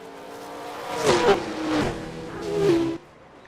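Race car engines in the Second Life racing game whine past in a pack, with three swells of rising, tonal engine roar in quick succession, moderately loud, and no talking.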